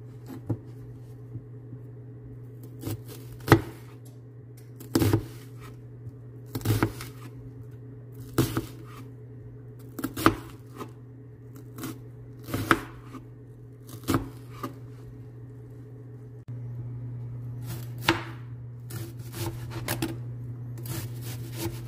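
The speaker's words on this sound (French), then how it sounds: "je vais couper mon oignon en deux" A knife cuts an onion in half on a cutting board, a series of sharp, separate taps and chops at irregular intervals over a low steady hum, close and fairly quiet.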